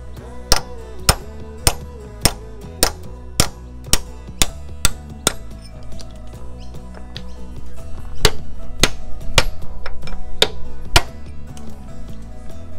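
Blind rivets being knocked out of a 1935 Dodge truck chassis, a dozen sharp metallic hammer strikes in a steady rhythm, then a gap and a few more spaced blows over a louder grinding, workshop background.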